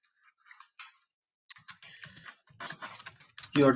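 A keyword is typed on a computer keyboard in sparse, irregular bursts of light clicks, close and fairly quiet, with a brief pause early on and a louder clatter at the end.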